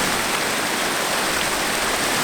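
Water of the Caerfanell River tumbles over a waterfall into plunge pools, a loud, steady broadband rush heard close up and unbroken.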